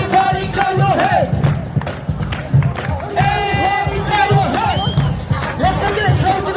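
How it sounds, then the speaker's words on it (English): A crowd at a New York City street show in winter cheers and shouts loudly and close by, with a performer's voice calling out over the noisy, rising and falling crowd. "If you like what you see, make some noise!"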